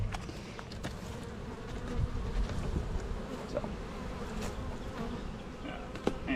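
Honey bees buzz steadily around beehives in a Georgia apiary during a summer dearth, a continuous low droning swarm with occasional louder passes near the microphone and no voices.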